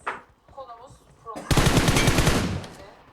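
Rapid automatic gunfire from M400 and P90 weapons in an online shooter video game, a loud sustained burst in the second half after quieter game sounds and a brief voice.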